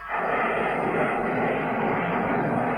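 A Tornado jet aircraft roars steadily overhead, a loud broadband engine rush that holds for the whole stretch with no pauses.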